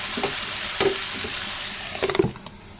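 Curry being stirred and sautéed in a pan on the stove, soft sizzling with a few scraping stirs and brief clattering bursts, close by with no talk.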